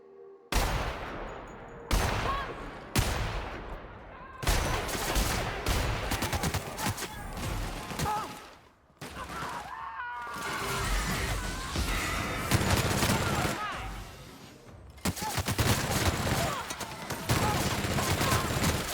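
Gunfire in the Monarch video game: sustained, rapid bursts of shots, loud and close, broken by brief pauses and stretches of echoing, rumbling fire.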